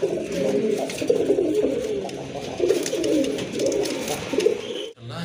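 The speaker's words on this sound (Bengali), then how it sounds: "এখানে কিন্তু আরেক জোড়া কবুতর আছে।" Pigeons coo steadily in low, throaty rolling phrases, close by and overlapping, continuing without pause until a brief drop near the end.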